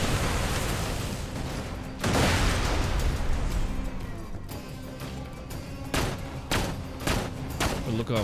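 Rapid gunfire from weapons in the video game Borderlands 2, loud, dense bursts of shots with sharp repeated cracks, sustained throughout with brief stronger volleys near the end.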